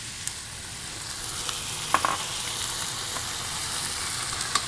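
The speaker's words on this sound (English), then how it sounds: "we're gonna add some red wine." Red wine poured into a hot pan of cooking tomato, setting off a loud continuous sizzle and frying hiss with a few small pops and stirring clicks close by.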